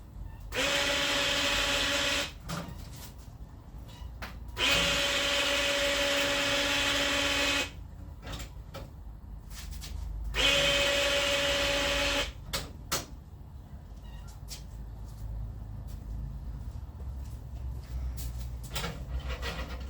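A power drill drives screws in three sustained whirring bursts, about two to three seconds each, while fitting a number plate onto a Datsun 1200, with short clicks and handling knocks between bursts in a quiet space.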